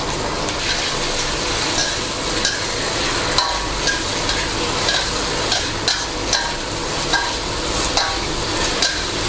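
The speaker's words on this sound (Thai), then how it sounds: "ผัดให้เข้ากัน" Oyster sauce, seasoning sauce and sugar stir-fried in a pan for sweet and sour sea bass, giving a loud continuous sizzle with regular spatula scrapes and clinks every second or so, close and with no voices.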